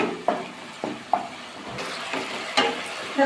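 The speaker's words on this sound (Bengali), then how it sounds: "নাড়াচাড়া করতে করতে কিন্তু অনেকটা মশলাটা কষিয়ে নিয়েছি" Spice masala for a cauliflower and pea curry fries and sizzles in a pan with a little water over high heat, while a spoon stirs in sharp intermittent scrapes over the steady hiss.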